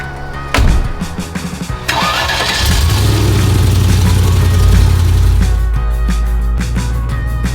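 A 2002 Land Rover Discovery Series 2 engine cranks briefly, catches and settles into a loud, steady idle with a low rumble, close by and with no talk.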